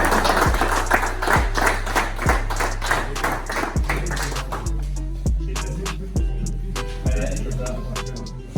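Applause for kart team 15, BBR, at the podium ceremony of a two-hour endurance karting race at Vaison Piste: dense crowd clapping at first, thinning to scattered claps, with a steady low hum underneath.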